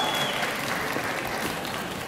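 Sustained applause fills a large hall at a college diploma ceremony, honoring the graduates. Many hands clap in a dense, steady roar throughout with no break, and no one talks.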